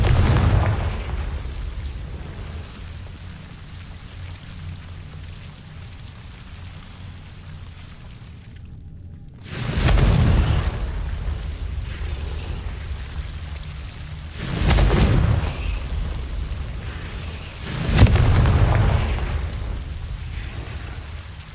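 Confringo blasting spells from Hogwarts Legacy burst three times at roughly five-second intervals, each a loud, broad boom with a rumbling tail, set over a low, steady background rumble.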